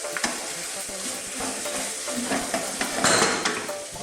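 Chicken and aubergine curry sizzles loudly in a pan over high heat while a utensil stirs and scrapes against the metal, giving a dense steady fry with irregular clinks.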